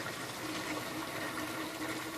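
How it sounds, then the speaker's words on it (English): Cold tap water runs for a quick rinse of equipment, a steady rushing splash of flowing water, close and continuous. "I am going to just run a quick rinse"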